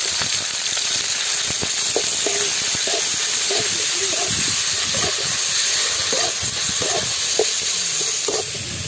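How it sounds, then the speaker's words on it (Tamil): Onion and capsicum sauté in hot oil, a continuous hissing sizzle with occasional stirring clatter, while someone talks over it for most of the clip. "இப்ப நம்ம வந்து வெங்காயத்தையும் கொடை மிளகாவையும் போட்டு நல்லா வதக்கிக்கலாம்"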